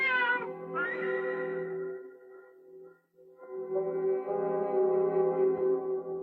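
A cat meows in a 1985 Indonesian horror film, one long drawn-out yowl after another, loud and near, with a brief pause between calls and no voices over it.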